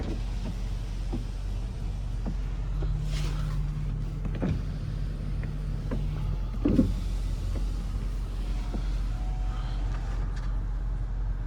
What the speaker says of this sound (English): Windows all work great.